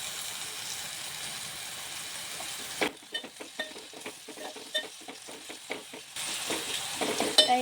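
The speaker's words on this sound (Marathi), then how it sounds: "आता हे सगळं एकदा व्यवस्थित परतून घ्यायचं आहे" Tomatoes and onions sauté in a pan for misal pav, with a steady sizzle broken by a run of clinking scrapes as the mixture is stirred. The sizzle then resumes, close and fairly quiet, with no voices.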